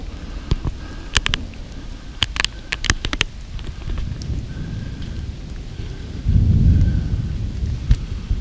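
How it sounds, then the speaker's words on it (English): Thunder rolls low during a heavy rainstorm on a forest bike trail, with a swell of rumble near the end over steady rain patter and scattered sharp drips or taps close by. "I hear the thunder."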